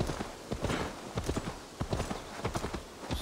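Horse hooves clip-clop in an even, unhurried rhythm, close and clear, in Assassin's Creed Valhalla.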